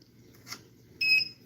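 A short, high electronic beep from a device, a single tone lasting a fraction of a second in a quiet room.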